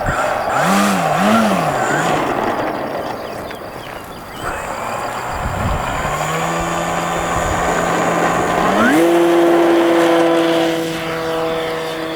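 A radio-controlled model airplane's small engine buzzes loudly and nearby, its pitch swinging up and down, then climbing and holding a steady high whine under throttle, with a person talking over it.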